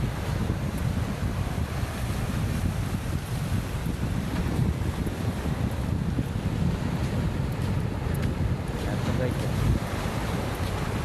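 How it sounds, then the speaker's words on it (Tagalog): Strong river current in Agno, Pangasinan, rushing as a loud, steady broadband wash for the whole stretch, with wind buffeting the microphone throughout. "Pero lakas ng agos guys."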